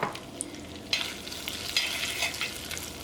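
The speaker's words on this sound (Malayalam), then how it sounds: "ഈ തേങ്ങക്കൊത്തൊക്കെ നമ്മൾ വറുത്തെടുക്കുന്ന സമയത്ത് നല്ലൊരു ഗോൾഡൻ കളറായിട്ടുണ്ടെങ്കിൽ" Coconut pieces fry in a pan for Kerala-style sweetened flattened rice. A steady, close sizzle runs under a few scraping stirs, with no talk.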